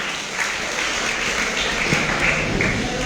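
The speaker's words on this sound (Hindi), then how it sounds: "एक बार जोरदार तालियों के साथ स्वागत करेंगे विनोद खत्री का।" Seminar audience applauding to welcome a speaker, a steady, dense wash of many hands clapping at moderate distance with no voices over it.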